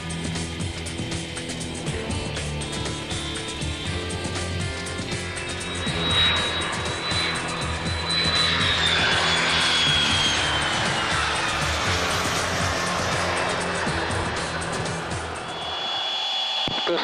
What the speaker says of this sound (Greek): Σε λίγο θα δούμε νυχτερινές προσγειώσεις μέσα και έξω από το αεροπλάνο.